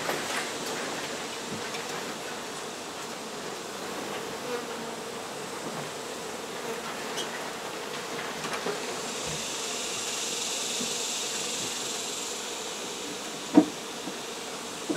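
Honey bees from an exposed hive being removed in San Benito, Texas, buzzing in a continuous dense swarm drone that is moderately loud and near, with a brief sharp knock near the end.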